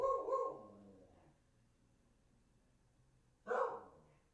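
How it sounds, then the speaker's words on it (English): A dog barks twice, fairly close, a short bark at the start and another about three seconds later, with near silence in between. "I guess the dog's barking"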